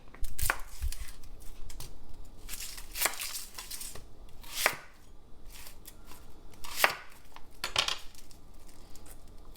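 Onion being quartered with a knife on a cutting board, several sharp chopping knocks spaced irregularly, close and clear with light clatter between strokes and no talking.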